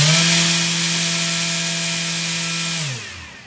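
An RC electric motor spins a 9-inch 4-bladed folding propeller on a thrust test stand, a loud steady high whine with a strong tonal hum that winds down near the end.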